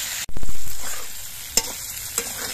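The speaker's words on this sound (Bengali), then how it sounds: "আলু আর বেগুনগুলো ভাজার সময় আমি পরিমাণ মতো নুন দিয়ে দিচ্ছি, আর দিয়ে দিচ্ছি কয়েকটা চেরা কাঁচা লঙ্কা।" Potatoes and eggplant fry in hot oil with slit green chilies, a loud sizzle bursting up as they hit the pan and slowly settling, with a couple of sharp stirring clinks near the end.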